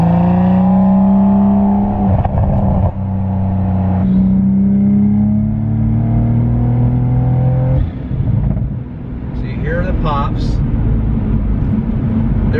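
A 2020+ Toyota Supra GR with a catless, free-flowing aftermarket exhaust revs loudly up close. The engine note climbs and falls through several sustained blips.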